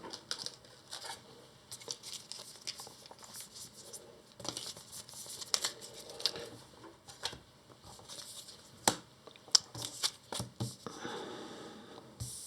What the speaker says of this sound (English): Shuffle the encounter deck if it was searched.